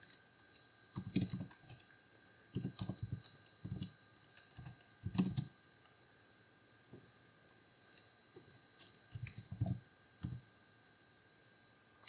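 A computer keyboard clatters as a Git branch command is typed, with quick bursts of close keystrokes broken by short pauses and a faint steady hum underneath.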